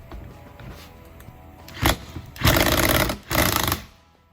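An impact wrench loosens the fork top on a 1978 CR250 motorcycle fork, with a short burst followed by two longer rattling, hammering runs up close.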